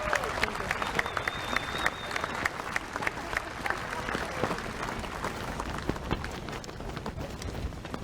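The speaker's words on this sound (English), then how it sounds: "Could we applaud for those people who weren't able to be with us today that are watching us?" Outdoor crowd at a university commencement ceremony clapping continuously, a dense, even spatter of many hands with a few sharper nearby claps and a faint tonal whistle early on, steady throughout.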